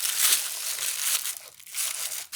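Black tissue paper is crumpled and crinkled close up by hand during a craft project, a bright rustling crackle in uneven bursts with brief pauses, no speech.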